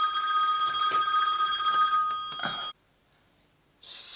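A phone rings indoors with a steady electronic ringtone that stops abruptly, then after about a second of silence a brief hiss of noise follows; no talking.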